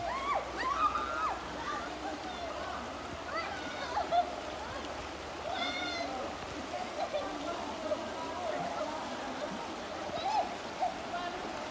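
A river current flows steadily where people are bathing and swimming, a continuous watery rush with occasional splashes under frequent voices talking and calling out.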